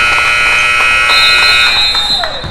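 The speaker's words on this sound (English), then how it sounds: "layup just before the buzzer for Derek Owens." A loud, steady electronic buzzer sounds at halftime of a Trinity College versus Johnson University men's college basketball game, sustained for over two seconds over faint arena crowd noise.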